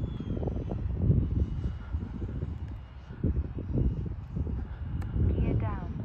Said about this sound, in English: It's hard to get that afterburner on video.